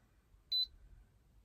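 A single short, high electronic beep from an induction cooktop in a van sounds once in an otherwise quiet room.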